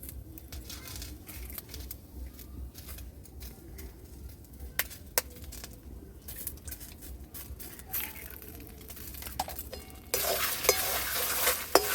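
Beaten eggs get stirred into lentils and potatoes in a pan, with soft scraping strokes over a steady low sizzle that grows louder and brighter near the end, without talk.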